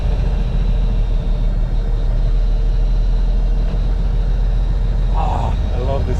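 An International 4300 Transtar diesel truck, restarted after four months sitting outside in the cold, idles nearby with a steady, even low rumble that runs unbroken throughout.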